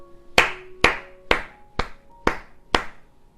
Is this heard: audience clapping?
yes